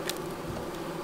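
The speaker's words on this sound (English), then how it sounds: "So I brush the bees. Well, first I shake the bees, then I brush the bees." USDA Russian honey bees buzz in a steady, close drone with a continuous tonal hum while a honey frame is brushed clear of them, with no voices.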